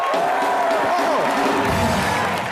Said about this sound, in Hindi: जोरदार तालियां सिद्धू